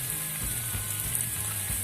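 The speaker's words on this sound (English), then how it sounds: "Saute it for a few minutes until the vegetables become nice and soft." Chopped tomatoes, garlic and cashew nuts sautéing in a pan, a steady close sizzle and crackle holding at an even level throughout.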